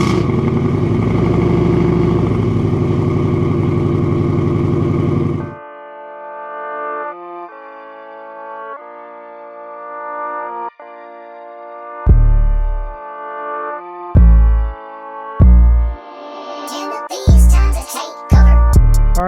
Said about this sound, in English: let's give you guys a little cold start.